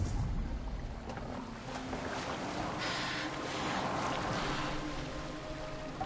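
A boat moving across water in the video game Assassin's Creed Valhalla, with a steady broadband wash of water and wind running continuously and evenly throughout, no voices present.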